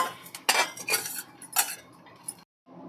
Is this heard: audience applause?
no